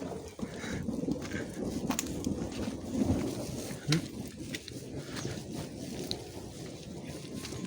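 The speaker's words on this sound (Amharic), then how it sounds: "እየዘነበ ነው።" Rain falls steadily during a rainy day in Adigrat, Tigray, with low rumbles of thunder rolling beneath the patter at moderate volume and a few sharper drips and knocks.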